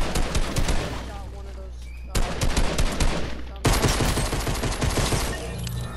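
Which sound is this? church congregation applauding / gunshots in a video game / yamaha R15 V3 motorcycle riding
gunshots in a video game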